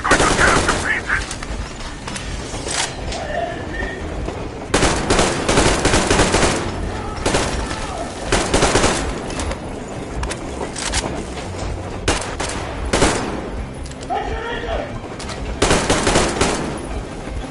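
Heavy gunfire in the post-apocalyptic shooter Metro Exodus: repeated loud bursts of automatic fire and single shots crackle through the whole stretch, dense and close, with a few shouted voices briefly under the shooting.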